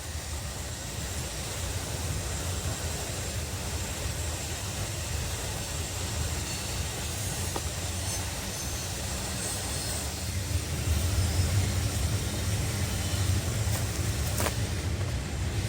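Norfolk Southern 294 freight train rolling past with a CSX train approaching, a continuous loud rumbling roar of wheels and cars on rails, steady throughout with a slight swell near the end.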